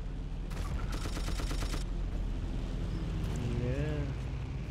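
Gunfire in the World War II shooter Battlefield 1942, a rapid burst of repeated shots near the start over a constant rumbling battlefield background, followed by someone talking.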